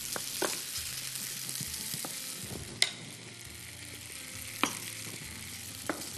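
Eggplant, peppers and tomato fry in a pan with a continuous moderate sizzle, broken by a few sharp clicks and scrapes as the vegetables are stirred.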